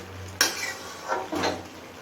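Sugar stirred into peas pulao in a pot, with a sharp spoon clink against the pot and two softer scraping strokes afterward, close and brief, no talk.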